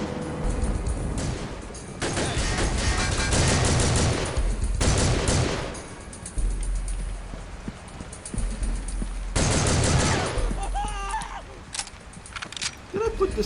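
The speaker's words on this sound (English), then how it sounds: "You just hear that their bullets are popping off somewhere" Rapid gunfire in Soldier of Fortune 2: Double Helix, bursts of automatic shots rattling in loud clusters with quieter gaps between them, set in Prague.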